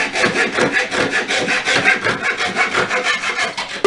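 Two flat wooden boards rubbed back and forth against each other by hand at a workbench, a loud close scraping with an even stroke rhythm throughout.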